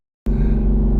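A 1200hp Jeep Trackhawk launches into hard acceleration, a sudden loud, deep engine roar bursting in after brief silence and holding steady and close.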